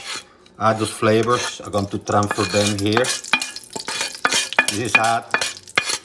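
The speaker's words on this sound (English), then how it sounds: "I'm going to scrape this stuff out too" A utensil scrapes oil and browned bits of beef neck bone from a hot pan, a rough rasping stir under a short spoken remark with a voice carrying through much of it.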